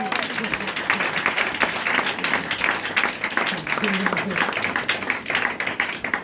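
A church congregation claps and cheers for Jesus during a morning worship service, steady applause and crowd noise throughout, with a preacher's voice heard over it.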